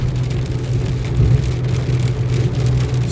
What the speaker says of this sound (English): Get caught in the middle of a storm, a rainstorm, or high winds.